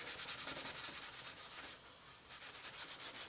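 A shellac finish on wood is rubbed down with fine 4/0 steel wool, making a close, continuous rhythmic scrubbing hiss with one brief pause partway through.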